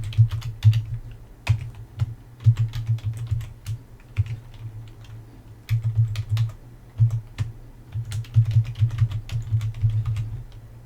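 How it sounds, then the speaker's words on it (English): Fingers type on a computer keyboard, a close run of irregular clicks and taps that pause now and then and resume in quick bursts. "Pressing the backspace key will delete all characters before the insertion point."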